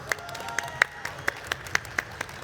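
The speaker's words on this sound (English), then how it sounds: "Can we have a round of applause for the people watching at home as well?" Sparse, sharp handclaps at a gaming convention stage chat, about nine spaced claps ringing out over a quiet room, thin and close.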